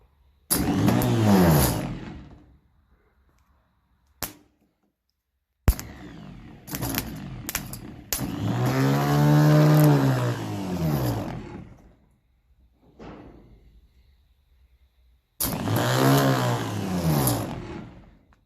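A 1957 Ferguson 35 TVO tractor starter motor cranking in several separate bursts, each a loud whirring, rising and falling roar lasting a couple of seconds, with sharp clicks and brief pauses in between.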